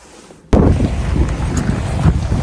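Wind blowing outdoors starts abruptly and then keeps up as a loud steady rumble buffeting the microphone, with no talk.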